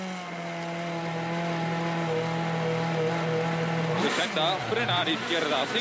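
A Citroën rally car on a special stage of the Rallye de France Alsace 2013 holds a steady engine note, then revs hard and pulls away with rising, fluctuating engine roar.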